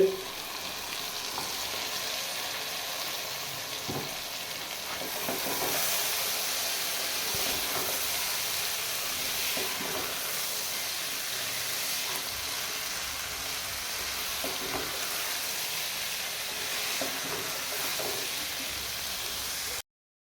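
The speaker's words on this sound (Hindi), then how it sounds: "अब इसमें वो जाएगी और इसको अच्छी तरह से भून लेंगे।" Parboiled urad daal (daal mash) frying in spiced masala gives a steady, broad sizzle for about twenty seconds, broken by scraping stirs at irregular intervals.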